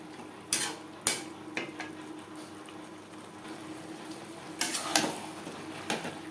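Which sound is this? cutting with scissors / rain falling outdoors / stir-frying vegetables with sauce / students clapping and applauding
stir-frying vegetables with sauce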